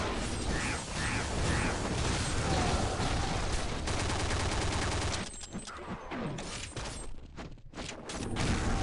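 A P90 submachine gun fires in a Counter-Strike zombie mode, a dense, loud stream of rapid automatic shots that runs almost unbroken, thinning briefly near the end before picking back up.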